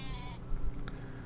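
Sheep on a small farm bleat close by: one drawn-out bleat followed by a shorter one, over a quiet barn background with no talking.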